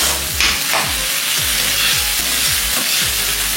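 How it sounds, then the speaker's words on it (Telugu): Beans and egg curry frying in oil, a constant close sizzle broken by regular scraping strokes of a spatula against the pan, about one per half second, with no voices. "ఫస్ట్ దీన్ని అయితే మనం బాగా నూనె పైకి తేలేంత వరకు మనం వేయించుకోవాలి."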